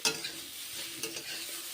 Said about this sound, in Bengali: ভাজা হয়ে গেছে ফুলকপিগুলো